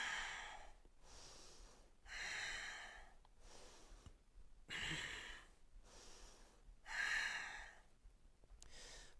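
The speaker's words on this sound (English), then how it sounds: "Final breath in, big breath." Deep, slow breaths in a yoga class, drawn in and let out in long swells about every two seconds, close and soft with no talking over them.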